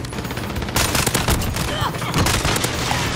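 Fennec (Vector) submachine gun in Call of Duty: Modern Warfare multiplayer, firing rapid continuous bursts that stay loud and dense throughout, with a player speaking over the shooting.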